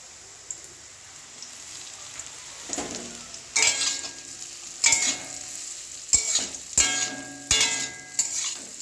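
Egg pieces fry in hot oil in a wok: a steady close sizzle breaks into several loud crackling bursts as the pieces are stirred and turned.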